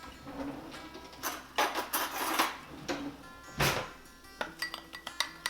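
Kitchen clatter of metal cutlery and dishes as a spoon is fetched, a run of close clinks and rattles with a drawer-like knock, quiet and uneven.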